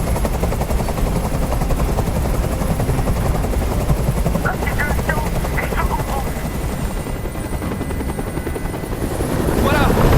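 Loud, steady helicopter rotor thudding from the game Detroit: Become Human fills the whole clip, a dense continuous chop with faint scattered higher sounds over it.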